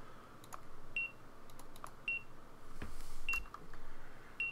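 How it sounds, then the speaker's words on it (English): Warning beeps from the Uplink hacking video game sound at regular intervals of about one per second, short and thin, over steady background noise with scattered clicks and keyboard taps. "As you can hear, that beep is getting close."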